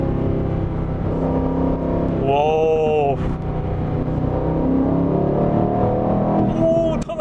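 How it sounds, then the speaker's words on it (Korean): An Aston Martin Vantage V8 sports car pulls hard, its engine and exhaust droning from inside the cabin and rising in pitch, with a man's exclamation over the continuous roar. "요즘 타본 차량 중에서 배기 사운드가 가장 큰 것 같아요"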